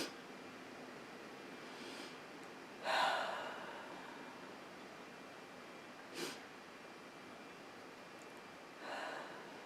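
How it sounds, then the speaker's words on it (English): A congregation at a service drawing deep breaths together, three soft airy swells spaced a few seconds apart over a quiet room hiss. "So I invite you to take 3 really deep aligning breaths."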